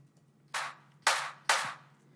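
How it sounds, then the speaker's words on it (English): Three sharp, bright clap drum samples land in a loose rhythm in a UK bassline track, each with a short decaying tail, over a faint low hum. "So this clap sample."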